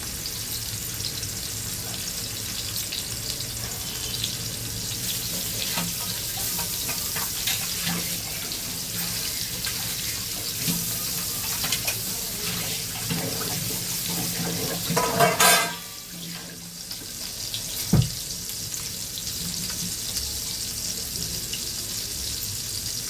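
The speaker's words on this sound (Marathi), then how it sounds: "तेल मस्त तापले हे आपण अशीच फ्राय करूया" Fish frying whole in hot oil without any coating, a steady hiss and crackle that runs throughout at close range, with a brief louder burst partway through.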